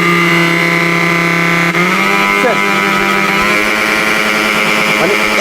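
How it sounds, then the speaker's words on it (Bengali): A Miyako blender runs at high speed with a loud, steady motor whine, its pitch shifting partway through, and someone talks over the sound. "এটার আরপিএম যদি হয় পঁচিশ হাজার আরপিএম তাহলে আপনার এটা কতটুকু অ্যাঙ্গেলে ঘুরতে পারে দেখেন সেকেন্ডে"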